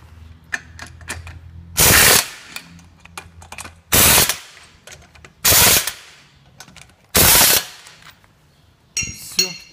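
Pneumatic impact wrench tightening a wheel on a Daewoo Matiz during a front brake pad change, four loud rattling bursts of about half a second each, separated by quieter clinks and handling noise.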